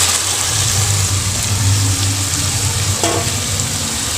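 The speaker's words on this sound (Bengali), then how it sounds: "মশলার মধ্যে আমি আলু আর মাছগুলোকে ভালোভাবে কিছুক্ষণ কষিয়ে নেব।" Potatoes and fish pieces fry in a spice masala, giving a loud, steady sizzle with a low rumbling hum underneath throughout, and a brief clink near the end.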